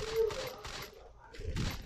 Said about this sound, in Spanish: Estoy escuchando los tiros donde no son.